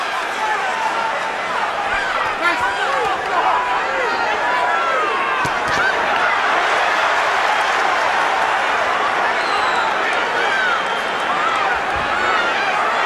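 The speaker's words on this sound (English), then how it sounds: "guttural roar from this crowd wanting to see Gatti close the show" A boxing arena crowd roars steadily and loudly for Arturo Gatti during his bout with Gianluca Branco, a dense, sustained wall of cheering and applause with no break.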